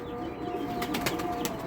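Pigeons on a home rooftop loft, with soft cooing and several short bursts of wing flapping against a steady background.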